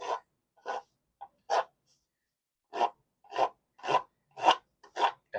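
A sanding block rasps over rough Bondo body filler along an edge in car body work, giving about ten short, close strokes in an uneven rhythm with a brief pause in the middle.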